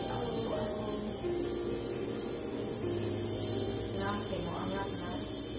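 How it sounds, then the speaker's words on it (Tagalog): A facial cleaning machine at a Belo clinic in Cebu gives off a steady electric hum and buzz throughout, with voices speaking faintly over it. "medyo maingay yung machine pero sandali lang naman yan"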